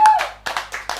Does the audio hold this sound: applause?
yes